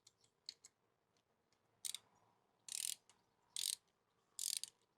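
A torque wrench clicks as it reaches 10 Newton meters on the clutch cover bolts of a Yamaha R125 motorcycle. Four sharp metallic clicks come up close, spaced less than a second apart, after some faint handling noise.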